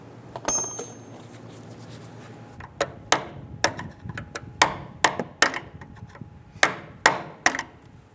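A tool chips at rust to free a brake hose from its bracket on a 1995-2001 Ford Explorer, producing about a dozen sharp, close metallic taps in an uneven rhythm.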